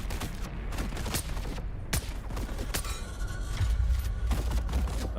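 Stasis grenade going off in the video game Dune Awakening, amid a loud, chaotic burst of cracking gunfire-like shots and sharp impacts, followed by a deeper rumbling boom.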